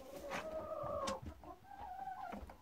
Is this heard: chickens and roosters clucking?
yes